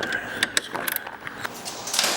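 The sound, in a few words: 8mm ratchet removing glove box bolts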